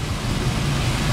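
Storm wind and surging floodwater during severe 2024 flooding in Morocco, a steady, loud broadband roar with a heavy low rumble, continuous and unbroken with no voices.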